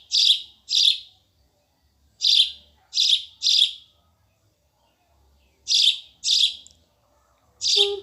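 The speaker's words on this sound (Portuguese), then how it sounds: "Um passarinho." A small bird gives bright, high chirps in short clusters, about eight separate clear tweets spaced irregularly over quiet, heard up close and alone.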